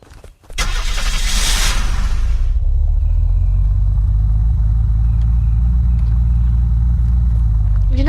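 Rally car engine in Unturned, a short burst of startup noise followed by a heavy, steady low idling rumble that holds loud and constant to the end.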